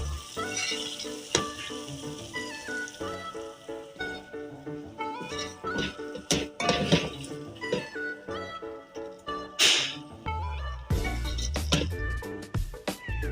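Turai (ridge gourd) sabzi being served from the pan, with a scattered run of light metallic clinks and scrapes from utensils, close up and moderately loud, alongside some faint sizzling.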